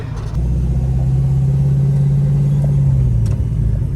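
A 1969 Dodge Charger with loose steering drives along a one-lane highway, its engine a loud, steady low rumble that holds throughout, with a slight change in pitch near the end.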